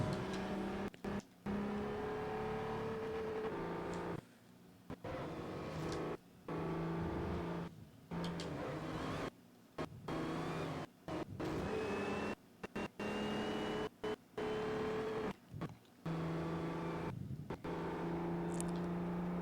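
A Saleen car's supercharged engine whines and revs in Forza Motorsport 4, rising and falling in pitch with repeated brief cuts between gear changes, loud and close with no talking.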